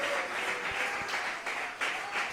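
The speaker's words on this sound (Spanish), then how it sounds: "Aplaudirlo." A church congregation breaks into sustained applause during a sermon, a steady wash of clapping that fills the whole stretch with no break, loud and fairly close.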